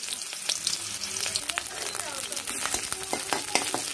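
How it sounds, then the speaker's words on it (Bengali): Chopped onion fries in hot oil in a home kitchen pan, giving a steady close crackling sizzle with scattered pops and the occasional stir. "এখানে তেল গরম হয়ে গেছে, আর একটু পেঁয়াজ দিয়ে দিচ্ছি"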